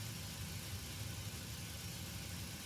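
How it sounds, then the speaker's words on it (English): A simulated PMDG 737NG jet engine spools up during startup in Flight Simulator X, a steady low rumbling whine held at even, moderate level with no voices. "Once the engine is actually started and stabilized"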